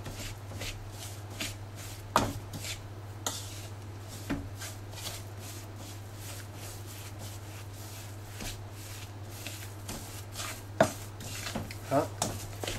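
Hands working gazelle horn pastry dough with orange flower water in a bowl, soft irregular squishing and pressing with occasional sharp knocks, close and quiet over a steady low background hum.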